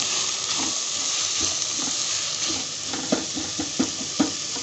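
A spiced mixture of crushed red chilli and salt being stirred in a pan, giving a soft continuous sizzle and hiss with a few sharper spoon knocks toward the end.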